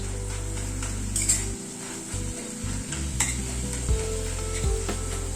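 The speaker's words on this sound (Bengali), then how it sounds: "এবার গ্যাসের ফ্লেমটাকে বাড়িয়ে দিয়ে শাকটাকে একটুখানি ভাজা ভাজা মতো করে নেব।" Kalmi greens cooked with a hilsa head frying in a wok over a raised gas flame: a continuous close sizzle with repeated stirring scrapes and light clinks of a spoon against the metal.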